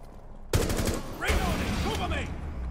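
Rapid automatic gunfire in Rainbow Six Siege team deathmatch, a close, loud burst that starts abruptly and keeps rattling under overlapping game noise and a voice.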